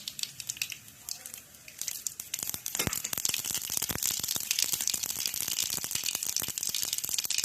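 Mustard seeds dropped into hot oil while making spicy chutney, with dense crackling and popping that builds into a rapid, sustained spatter close by and no voices.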